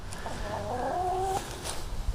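Chickens clucking inside a backyard chicken coop with a dust bath, a short cackling call rising over steady background noise.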